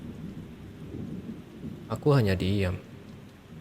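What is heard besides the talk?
rain at the beach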